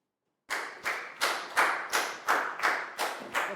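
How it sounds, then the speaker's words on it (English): Year 4 students in a classroom give a round of applause for a classmate, about eight slow, evenly spaced claps that sound like a small group clapping together, near and moderately loud, with no talking. "Big round of applause for Chu,"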